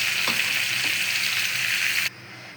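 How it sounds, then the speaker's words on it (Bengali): Rohu fish pieces fry in hot oil with a steady, loud crackling sizzle that cuts off abruptly near the end, leaving quieter background hiss. "মাছ ভাজা হয়ে গেছে"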